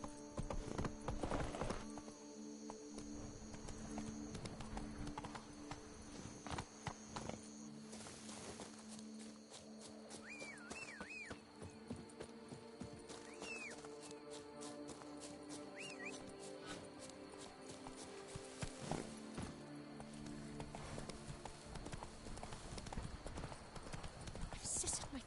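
Roach, a horse in the video game Witcher 3, clops along with steady rhythmic hoofbeats at close range, with a brief whinny and game music and effects underneath, and someone talking over the footsteps throughout.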